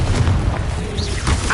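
The Confringo explosive spell is cast in Hogwarts Legacy, giving a short, loud booming burst with a dense rumble and a brief rising magical whoosh.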